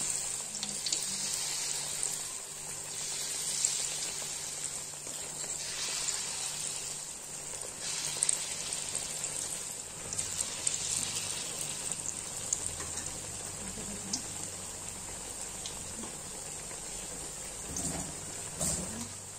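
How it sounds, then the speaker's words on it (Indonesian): Corn fritters (perkedel jagung) frying in hot oil, a steady bright sizzle and crackle with occasional pops, continuous and moderately close, no speech over it. "kita goreng perkedel jagung di minyak yang panas"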